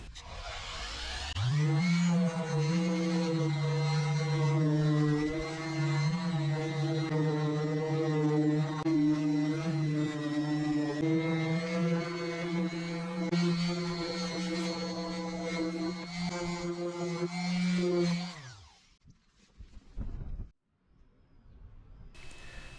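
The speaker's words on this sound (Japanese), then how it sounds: "電動ポリッシャーを使った荒削りが終わりました。" Electric polisher rough-sanding car paint with 240-grit sandpaper: a loud, steady motor whine hums continuously for about sixteen seconds, then winds down and stops, leaving near silence with a faint knock.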